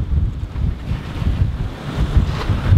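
Wind gusting over open sea aboard a sailboat, a steady rough roar with low buffeting that rises and falls, close to the microphone and alone without voices.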